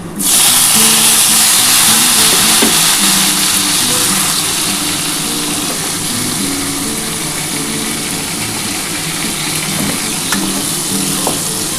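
A mixed eggplant batter goes into hot oil with fried neem leaves, an immediate loud hiss that settles into steady, vigorous sizzling and bubbling, with occasional faint stirring clicks and no voices.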